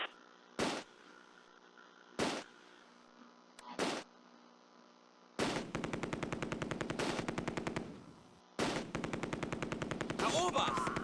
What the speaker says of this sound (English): An MG42 opens up on the right